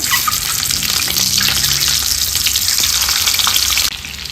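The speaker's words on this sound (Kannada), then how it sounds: "ಮಸಾಲೆ ಹುರಿದ ಪಾತ್ರೆಗೆ ಮೊಟ್ಟೆ ಹಾಕ್ಕೊಂಡು ಒಂದು 5 ನಿಮಿಷ ಫ್ರೈ ಮಾಡ್ಕೊಳ್ಳೋಣ" Boiled eggs sizzle steadily in a pan of fried masala, a dense, even crackle throughout that drops slightly in level near the end.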